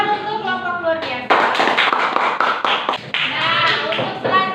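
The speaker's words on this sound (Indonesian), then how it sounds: "Tepuk tangan untuk kelompok luar biasa." Students in a classroom clapping for a presenting group, a burst of close, sharp hand claps following a voice at the start, with more voice fragments mixed in.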